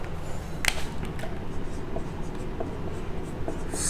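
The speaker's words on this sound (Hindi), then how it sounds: "इसके बाद हम लिखेंगे नेक्स्ट टॉपिक" Chalk taps and scrapes across a classroom board during a biology lesson on soil, short strokes and clicks heard under a quiet room background with faint speech.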